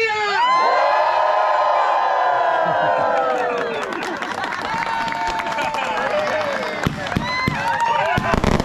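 A large group of touring cyclists at a countryside chácara near Campo Largo lets out a loud, sustained collective shout and whooping cheer, which then breaks into scattered yells, laughter and clapping, close and crowded throughout.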